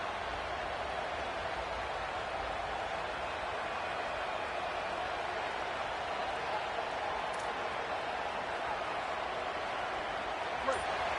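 Steady broadband roar of a stadium crowd at a video game football match, constant and moderately loud throughout with no clear peaks, a faint thump near the end.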